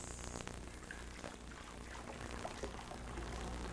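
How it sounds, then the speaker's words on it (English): Water poured into a container during a wax oil-spill removal demonstration, heard as a steady, fairly quiet splashing pour with no speech over it. "I'm going to pour water in this container."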